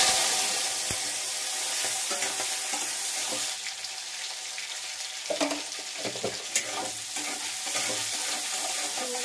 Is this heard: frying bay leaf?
yes